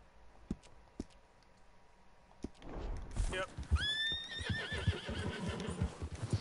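A horse whinnies loudly in the Red Dead Redemption 2 game world, a long rising-and-falling neigh near the middle, amid hoof clip-clops and clicks, with someone talking over it.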